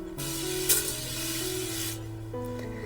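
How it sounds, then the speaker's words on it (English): A steady hiss of setting spray misted lightly onto a face, lasting about two seconds, close and even, over faint background music. "So just lightly spray that on."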